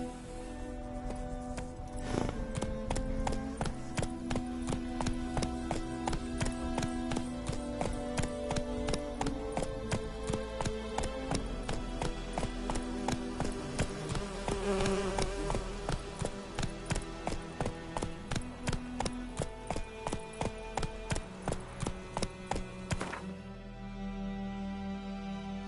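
Roach the horse gallops in The Witcher 3, a fast, even run of hoofbeats close up that holds steady for most of the time, then slows and stops near the end against a quiet ambient bed.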